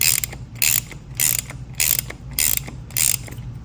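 A ratchet wrench clicks in five short, evenly spaced bursts while a part is snugged up on a KTM Duke 890R engine, with quiet pauses between each turn.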